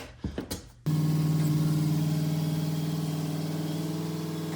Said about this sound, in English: Let's back out the truck.